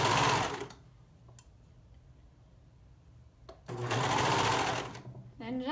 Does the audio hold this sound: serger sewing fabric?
yes